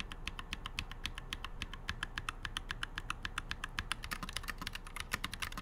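Rapid typing on a mechanical keyboard fitted with Glorious Panda switches, steady even clacks running throughout at close range with no talking.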